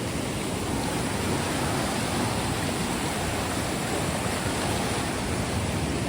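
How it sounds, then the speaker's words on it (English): Rushing water from the flooded Barak River in Senapati, a steady dense roar of fast-flowing floodwater, loud and continuous with no voices. "The river."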